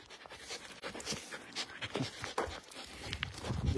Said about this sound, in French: le chien a envie de jouer